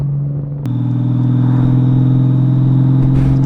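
A Honda Goldwing motorcycle engine rumbles steadily while riding, a low loud drone that rises in pitch as it accelerates after a brief click near the start, with wind noise over it.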